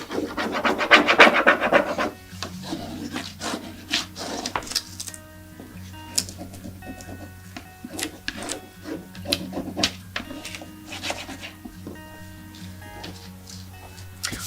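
Burnishing an IOD decor transfer onto a surface, heard as a string of dry rubbing and scraping strokes, dense and louder at first, then irregular lighter rubs with small clicks, close up and with no talking.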